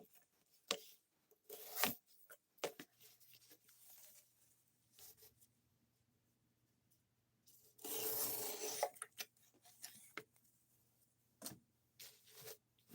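A knife edge rasping across a 320-grit whetstone in irregular strokes while the burr is raised, with quiet gaps between strokes and one longer, louder scraping pass near the end.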